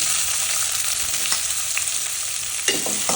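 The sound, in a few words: chopped onion frying with bay leaf and cardamom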